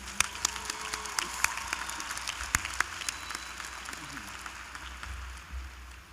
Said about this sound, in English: So let's give ourselves another round of applause for making it through.